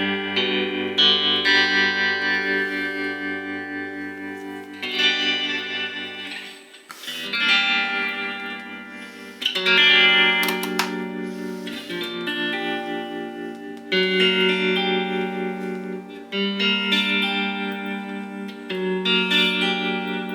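Fender Mexican Stratocaster electric guitar played through the neck pickup with a rewired pickguard, pickups and vibrato, sustained chords and melodic notes with chorus-like shimmer and slight drive, ringing continuously and close without any voice.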